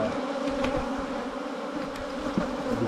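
Honey bees buzz steadily at an open hive during colony splitting, a continuous close-up drone with a few louder passes as individual bees fly near.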